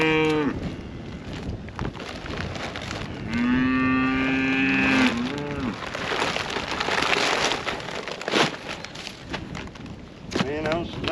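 Cows moo loudly and up close, with one long low call in the middle and shorter moos at the start and end, while a person talks over outdoor background noise.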